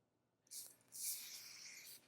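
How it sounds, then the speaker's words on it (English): A short hiss of spray lubricant from an aerosol can in a car engine bay, two bursts close up, the second longer and steady, with quiet background otherwise. "Next, I like to use a little bit of spray lubricant"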